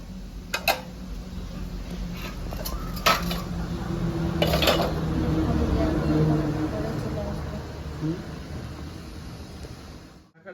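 A metal tiffin box set down in a stand and covered during village-style cooking of steamed rohu fish, giving a few sharp metallic clanks and clinks over a steady background hiss, with a voice talking.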